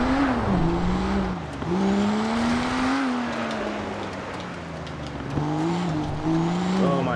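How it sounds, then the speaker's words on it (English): Engine of a BMW heard from inside the cabin in the FiveM game, revving hard with steady climbing and dipping pitch as gears shift, loud and continuous throughout with no talk. "See what it sounds like on the inside of the car?"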